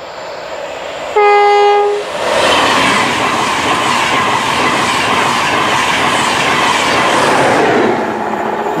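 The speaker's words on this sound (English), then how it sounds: "If this train beeps his horn, it means he likes my video." Freight or passenger train horn blares once, loud and close, then the train rumbles past steadily with rolling wheel noise for several seconds.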